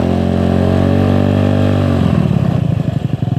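Honda Ruckus scooter engine revving up close, a steady loud buzzing idle that rises in pitch, then breaks into a rougher, pulsing throttle sound toward the end.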